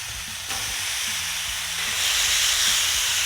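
Pastrami hitting canola oil in a hot pan sends up a loud, steady broadband sizzle that swells and stays constant, with low clattering knocks from the pan underneath.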